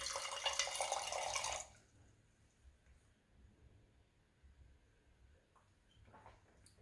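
Water pours from the heavy-duty spout of a glass beverage dispenser in a brief close hiss that stops abruptly after about a second and a half, leaving faint quiet room sound.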